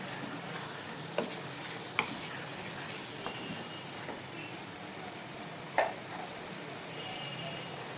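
Prawns frying in a pan for malai curry, with a steady sizzle broken by a few sharp clinks and scrapes from stirring.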